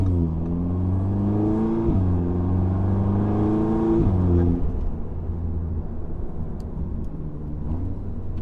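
A VW/Audi (A3, S3, GTI or Golf R family) engine fitted with an EQT charge pipe revs hard in rising, falling sweeps, climbing three times in close succession before settling into a rough idle rumble, loud and close with no talking.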